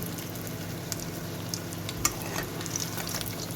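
Fish sizzling as it fries in hot oil in a Jaffna home kitchen, a steady close crackle with a few louder pops and spits, no voices.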